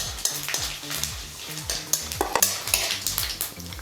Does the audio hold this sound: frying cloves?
yes